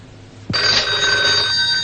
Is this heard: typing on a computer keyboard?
no